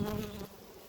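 Honey bees buzzing around a hive being fed sugar, a close, faint droning hum that fades after a half second.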